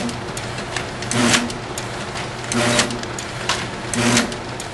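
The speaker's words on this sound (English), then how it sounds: "To start the print cycle, you're going to want to jog a piece of product all the way to the end of the discharge belt." An OKI pro900DP printer with an envelope feeder runs through a print cycle, giving a steady mechanical whir with rhythmic louder surges about every 1.5 seconds and no talk over it.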